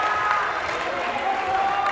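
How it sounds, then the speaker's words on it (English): Home crowd at a Renaissance boys basketball game against Mahar applauding and cheering, a dense wash of clapping and voices over a brief stretch, with a commentator talking over it. "The Renaissance crowd getting really fired up as they take the lead in this game"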